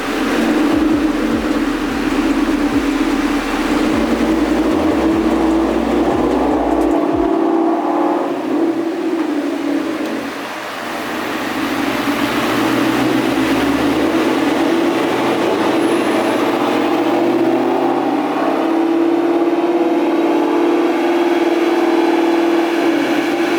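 A 2019 Ford Mustang GT runs on a dyno with a loud, sustained droning roar and a deep rumble that dips briefly midway, then holds steady again to the end. No talking is heard.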